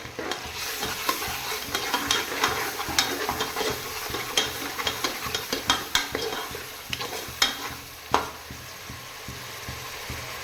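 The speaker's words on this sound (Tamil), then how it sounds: "இப்போ நம்மளோட இஞ்சி பூண்டு சேர்த்துக்கலாம் இஞ்சி பூண்டு அந்த பட்டை லவங்கத்தூள் எல்லாமே" Ginger garlic paste with cinnamon and clove powder sautéing in a pan for vegetable biryani, a continuous sizzle broken by frequent clicking and scraping stirs, close and fairly loud.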